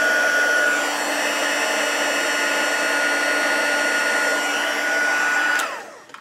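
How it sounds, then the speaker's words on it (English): A handheld heat tool blows a steady, loud whirring stream of hot air to melt embossing powder on a craft piece, holding constant for about five seconds before switching off and winding down. "as soon as it started to melt, take your heat tool away"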